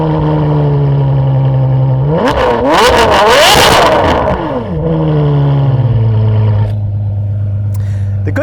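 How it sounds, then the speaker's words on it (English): Ferrari 599 SA Aperta V12 with the 599XX exhaust and a sport muffler rises from a steady idle into a loud, sweeping rev that climbs and falls over a few seconds, then settles back to a low, steady idle. "Now the 599 has been fitted with the exhaust from the 599XX, but it does have our sport muffler."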